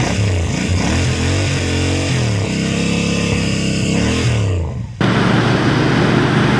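A Royal Enfield Bear 650 scrambler motorcycle with a 2-into-1 exhaust, its engine note loud and close, rising and falling in pitch as it revs, with a brief dip before a steady, rougher drone resumes.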